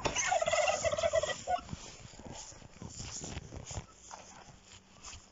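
Turkeys gobble loudly and close in a rapid rattling burst at the start while walking about a farmyard, followed by quieter scuffling, clucks and background yard noise.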